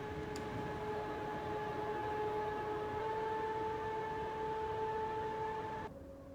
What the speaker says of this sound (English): The fan isn't particularly loud, but it is audible at full speed.